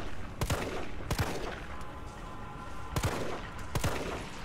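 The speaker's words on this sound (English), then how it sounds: "Okay, yeah, pistol works fine." Pistol shots in Resident Evil 3, several sharp reports spaced out in a loose rhythm over a dense, noisy game background, fairly close and moderately loud.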